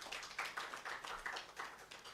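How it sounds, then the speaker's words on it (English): Faint, distant audience applause at a formal launch event for a legal compendium on public interest litigation, an even wash of many hands clapping for a couple of seconds with no clear talk. "Can we give it a big hand clap?"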